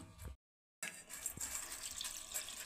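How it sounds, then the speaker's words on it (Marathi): Water pours from a tap into a container over millet vade set to soak, a steady close gush that starts after a brief silence. "तर ह्या वड्यांना आता मी पाण्यामध्ये भिजवून घेणार आहे 10 ते 15 मिनिटं।"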